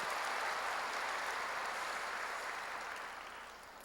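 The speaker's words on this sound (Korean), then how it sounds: "감사 박수 너무 잘했어요." A church congregation claps in thanks after the choir's hymn, a dense, close burst of applause that holds steady and then fades out near the end.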